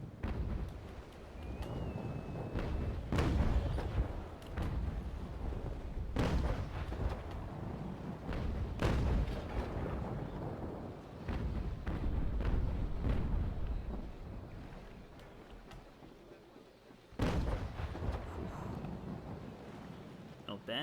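Ship cannons fire in the Naval Action sea battle game as a player's vessel fights cutters, heavy booming blasts landing in a repeated volley with rumbling tails over steady sea and wind ambience, under occasional talk.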